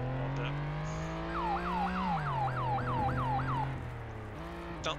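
A police siren in the video game Flashing Lights wails in a rapid rising-and-falling yelp, about seven quick cycles over a steady engine drone, then cuts off and leaves the engine running alone.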